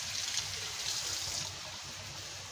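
A kitchen tap runs water over an onion being washed, a faint, steady trickling hiss that continues without a break.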